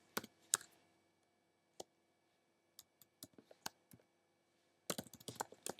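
Keys on a computer keyboard are tapped while Sass code is written, sparse soft clicks at first that build into a quick burst at the end, close and quiet with no talk.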